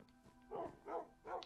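Dogs in Minecraft give three short, evenly spaced barks against a quiet background, clear and moderately close with no voice over them.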